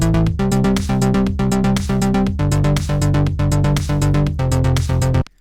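A synthwave synth bass line programmed in Logic Pro X pulses in a driving arpeggiated pattern of offbeat notes, loud and continuous over several bars before stopping abruptly.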